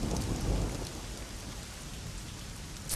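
Steady heavy rain pours down in a broadband hiss, loudest near the start and then holding an even, close wash to the end, with no voices.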